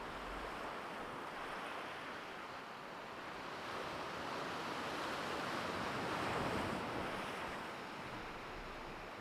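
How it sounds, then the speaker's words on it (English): Sea waves wash continuously onto a Scottish beach, a broad steady surf roar that swells gently and carries some wind noise, with no talking. "Just keeping an eye on these waves as we're chatting away there"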